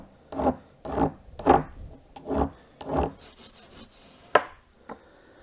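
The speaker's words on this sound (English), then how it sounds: "So I'll just take off the burrs" A hand file rasps burrs off metal parts for an Aermacchi motorcycle rear wheel in a workshop, making about seven steady back-and-forth strokes with a few lighter scrapes, close and clear, with no voices.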